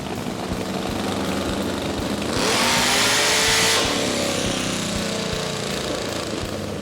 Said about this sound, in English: Owner Mike Owens has never had his Firebird on a dyno before, and he vows to give her all she's got.